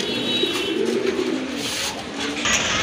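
Pigeons cooing close by, a pair of Nun pigeons kept at a breeding farm, with steady low throaty coos rolling on under faint chirps and background noise, with no voices.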